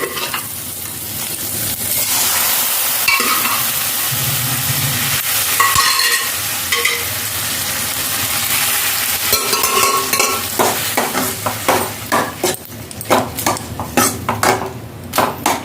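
Chana dal tipped into a hot pan with coconut and stirred while frying, a loud continuous sizzle with metal spoon scraping and clinking that turns into rhythmic repeated stirring strokes, close and without talk.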